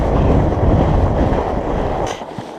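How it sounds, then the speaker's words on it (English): Strong wind buffets a rider on a night fat bike ride along a snowy trail, a loud continuous rumbling roar with a short gusty swell near the end. "There's a pretty strong wind."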